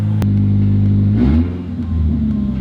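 A 2022 Subaru BRZ engine with a catback exhaust idles loudly, then revs up and drops back to a rumbling idle, with a hollow, echoey exhaust tone throughout.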